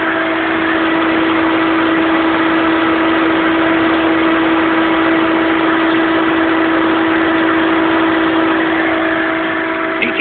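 A Hayward Ecostar pool pump runs at 3250 RPM with a loud, steady motor hum and a strong constant tone over rushing water, unchanging throughout and with no voices.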